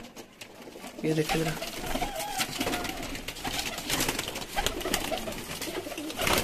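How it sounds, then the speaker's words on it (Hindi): Pigeons cooing at a pigeon loft in Lahore, Pakistan, soft repeated coos under someone talking close by, with rustling and outdoor background. "ये सब प्रवासी कबूतर है, पिछले घरों में बैठे हुए कबूतर है"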